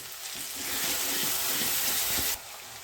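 Spices with Kashmiri chili powder and meat masala are sautéed in oil for a chickpea ghugni, a dense, loud, close sizzle that holds steady for a couple of seconds before easing off abruptly.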